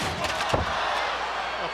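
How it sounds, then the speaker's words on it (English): A wrestler is slammed face first into an ironing board during a falls count anywhere match, a single heavy crash and thud over crowd noise. "Oh, he just bent the ironing board in half. Face first. Pressed him into the ironing board of his own."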